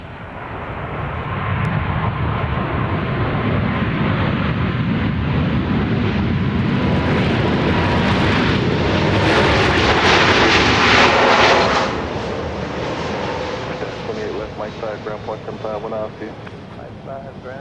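A Boeing 737 MAX 8 airliner at Dallas Love Field roars close by, its engine noise swelling to a loud peak before fading and leaving a lingering rumble.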